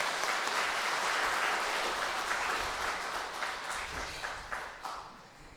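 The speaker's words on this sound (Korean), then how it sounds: "우리 다시 한번 더 감사의 박수" A church congregation applauding in thanks during a worship service, a dense roar of clapping that holds steady and then thins into scattered claps as it fades.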